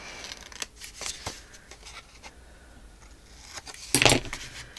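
Scissors snip paper pocket corners in a handful of quick, close cuts and rustles, ending with a louder crisp burst of paper handling.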